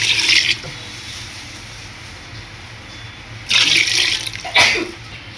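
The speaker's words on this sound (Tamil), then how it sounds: "நம்ம இப்போ ஒரு லிட்டர் தண்ணி ஊற்ற போகிறோம் முந்நூற்றம்பது கிராம் அரிசிக்கு" Water is poured into a cooking pot for tomato rice in three separate splashing bursts, the first about half a second long, then two shorter pours after a quiet gap.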